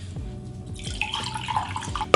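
Cold water running from a kitchen tap, a gurgling splashing stream with a few drips at the start, close and fairly loud.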